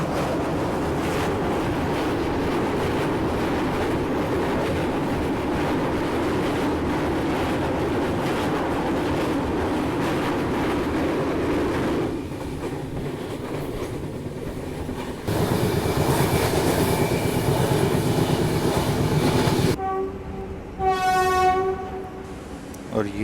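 A passenger train runs across the Beas river with a continuous loud rumble and rattle of wheels, the tone shifting on the bridge, then a horn sounds near the end.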